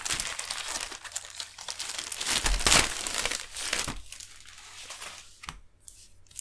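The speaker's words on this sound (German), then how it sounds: "deswegen holen wir es jetzt auch mal aus der Folie raus" Clear plastic wrap crinkles and tears as it is pulled off a Panini FIFA 365 Adrenalyn XL card pack, close crackling with one sharp ripping burst in the middle.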